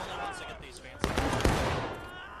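Gunfire in the Civil War-era game War of Rights during a 42nd Pennsylvania event, with two sharp reports about half a second apart over a dense backdrop of battle noise and distant firing while voices talk over it.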